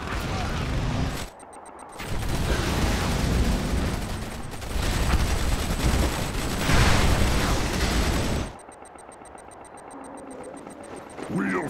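Command and Conquer Tiberium Wars base under attack: dense battle noise with rapid gunfire bursts and heavy impacts for most of the stretch, a brief lull near the start, and game voice lines over quieter moments toward the end.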